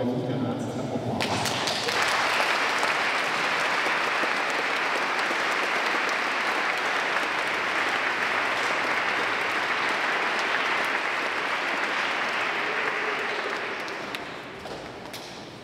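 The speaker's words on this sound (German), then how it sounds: "nochmal einen herzlichen Applaus" Sustained, dense applause from a concert audience at a music school's anniversary concert in a hall, rising quickly after a brief moment of talk and holding steady for over ten seconds before tapering off.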